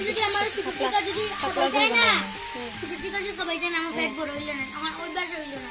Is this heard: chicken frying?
yes